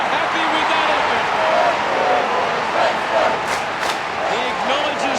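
A stadium crowd in the AFL Evolution 2 football game roars and cheers after a goal, a loud, continuous wash of noise under an announcer's commentary.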